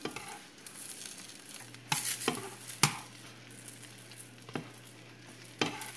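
French toast frying in butter in a hot pan gives a steady soft sizzle, broken by a few sharp clicks and clatters of a utensil against the pan, with no talking.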